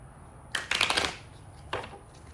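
Two quick riffles of playing cards being shuffled, close and crisp, the first longer burst followed by a shorter one after a pause.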